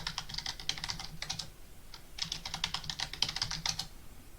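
Rapid bursts of keystrokes on a computer keyboard as a new password is typed, clicking in quick uneven runs with a brief pause partway through, close and alone with no talk.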